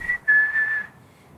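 A person whistles a short tune, imitating a grandfather who used to whistle while cooking; two clear, close, fairly steady notes with a brief break between them, heard alone with no talk.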